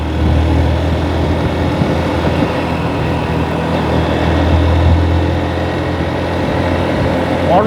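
A motorcycle ridden along an empty night road near Rangpur gives a steady, loud engine drone mixed with wind roar, sustained for the whole stretch without clear breaks.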